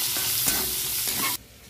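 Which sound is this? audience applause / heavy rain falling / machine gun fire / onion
onion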